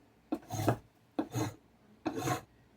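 Three separate rasping strokes of a hand file on a part for an F7 A model locomotive, each about half a second long and spaced evenly. They are close and clear, with no talking.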